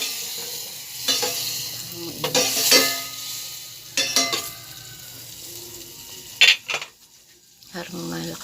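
Butter sizzles in a hot pan as the base for a Jollibee-style gravy, with stirring scrapes and bursts of clinking from utensils against the pan over a steady low crackle.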